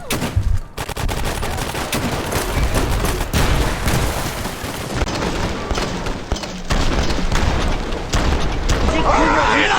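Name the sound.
grenade machine gun firing in video game Fallout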